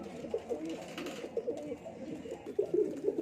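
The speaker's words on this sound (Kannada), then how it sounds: "ನೋಡ್ತಿದ್ದೀರಾ, ಅಕ್ಕಿಗಳೆಲ್ಲ ಸೌಂಡ್ ಮಾಡ್ತಾ ಇದ್ದಾವೆ" Pigeons in a loft give repeated soft, low cooing calls, several birds overlapping at a steady rhythm, with small rustles between the calls.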